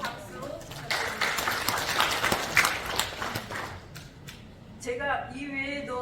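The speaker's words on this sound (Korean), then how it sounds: "그래도 박수 부탁드립니다." Congregation at a church prayer meeting clapping in welcome, a scattered burst of hands that thins out and stops, followed by a speaking voice.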